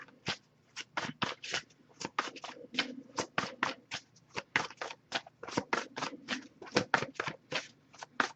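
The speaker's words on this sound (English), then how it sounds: "if I shuffle for a while without anything coming up" Tarot cards are shuffled in quick, crisp bursts of riffling and snapping, repeated steadily and close up, with no talking.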